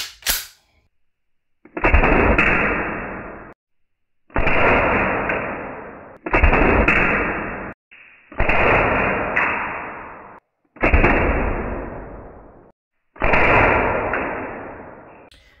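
A green gas airsoft gun firing 6mm plastic BBs, six separate loud sharp shots, each followed by a hissing gas release about a second and a half long, spaced by short silences.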